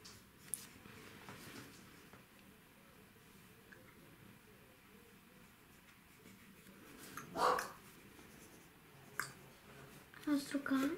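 A household dog barks and yips a few times in the background of a quiet indoor room, the short, fairly faint bursts coming near the end against low room noise.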